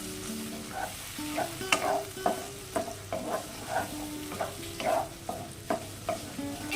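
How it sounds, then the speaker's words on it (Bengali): Prawns fry in a pan with salt and turmeric, a soft sizzle under a repeated scrape and clink of a spatula being stirred through, close and fairly quiet. "ততক্ষণ চিংড়িগুলো আমরা ভেজে নেব"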